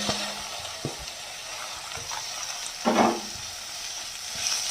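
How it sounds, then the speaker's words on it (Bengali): Green chillies, red and yellow bell peppers and carrot sautéing in a pan outdoors, a steady soft sizzle with a few stirring scrapes and one louder clatter midway. "এইগুলো একটু ভালো করে সতে করে নেব।"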